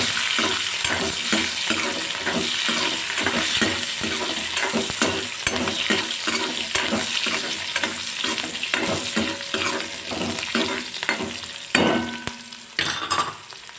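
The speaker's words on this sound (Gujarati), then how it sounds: "હવે એને આપણે સાતળી લેશું" Curry leaves and a hot green chilli sauté in a pan for Indori poha, with a continuous sizzle and rhythmic scraping strokes of a spoon, close and fairly loud, no voices.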